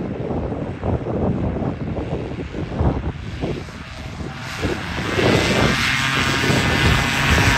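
Ground-level engine noise from a paramotor trike powered by a Loster 185, a steady propeller drone with strong wind buffeting the microphone, growing louder in the second half as it nears or throttles up.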